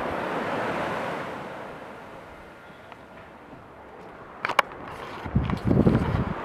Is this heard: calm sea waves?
yes